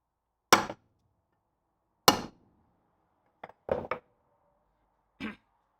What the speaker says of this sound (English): It still took some hammer action to come off.